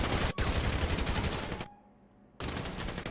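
Rapid bursts of gunfire from the Free Fire battle-royale game fill the first stretch with a brief break, drop away to near silence for about a second, then resume loud and dense.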